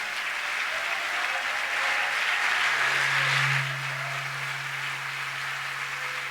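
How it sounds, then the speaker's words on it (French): A church congregation applauds in a continuous broad wash of clapping and cheering, steady and moderately loud, with a held tone rising briefly in the middle. "Est-ce qu'on peut acclamer très fort notre Seigneur?"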